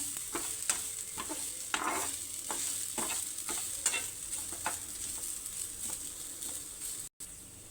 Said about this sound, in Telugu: కొంచెం ఎరుపు రంగు వచ్చేలాగా వేయించుకుందామండి